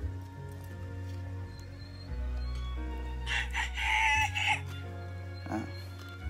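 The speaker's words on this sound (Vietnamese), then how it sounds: "Bạn nghe tiếng gà chưa, tiếng gà gáy sáng" A rooster crows on a misty morning near an outdoor breakfast spot, a single loud crow in the middle over a low steady background hum, with a brief cluck near the end.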